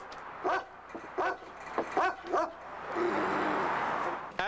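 Police search dogs bark repeatedly at a command post, a series of sharp, fairly close barks and yips with short gaps, followed by a brief stretch of rushing noise.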